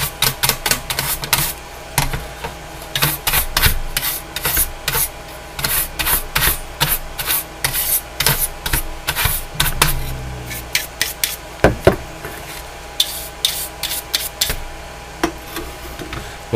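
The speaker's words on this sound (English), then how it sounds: "Got a nice bristle brush here. Just going to clean down all the boards." Stiff bristle brush scrubbing the internal circuit boards of an original Nintendo console during restoration, a close series of quick dry scratchy strokes in irregular bursts, alone with no talk.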